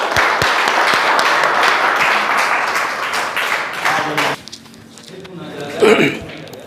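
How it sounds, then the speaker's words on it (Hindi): School audience at a class 10 and 12 result celebration applauding a teacher: loud, dense clapping from a crowd that cuts off abruptly partway through, followed by quieter room sounds and a brief burst of voices. "इनके लिए जोरदार ताली बजाएं।"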